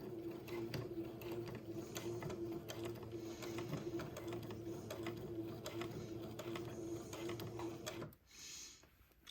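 A sewing machine runs slowly and steadily, stitching a waistband seam over pins, with a continuous mechanical hum and faint ticking that stops near the end.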